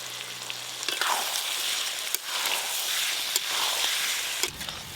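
Boiled potatoes simmering with fried spices and a little sugar for Bengali aloo dum, giving a soft continuous sizzle with occasional sharp clicks of a spoon against the pot, moderately quiet.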